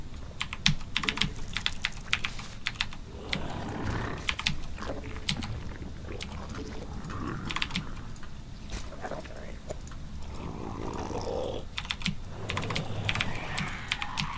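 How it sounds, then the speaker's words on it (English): A computer keyboard's keys are struck hard and fast during a StarCraft gaming session, giving a dense, loud clatter of typing throughout, with people talking over it at times. "Why do you punch the key so hard? What? Oh, it's my keyboard."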